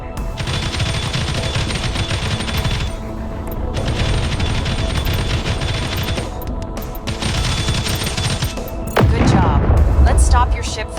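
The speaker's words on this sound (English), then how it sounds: "Now fly closer and destroy all practice targets with your projectile turrets." In the space strategy game Space Reign, projectile turrets fire automatically at practice targets, giving loud, sustained bursts of rapid gunfire separated by short gaps and ending in a heavier boom.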